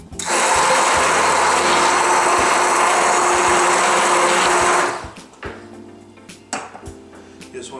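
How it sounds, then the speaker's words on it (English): A loud whirring immersion blender runs steadily for about five seconds, then stops, followed by a few light knocks and clatters. "Just blend it together with an immersion blender."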